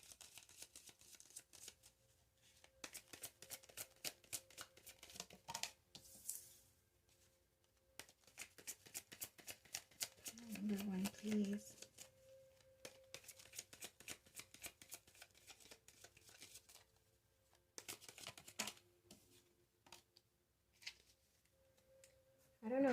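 Repeated crisp riffling and flapping of a card deck being shuffled, in bursts with short pauses, close and moderately quiet, no talking.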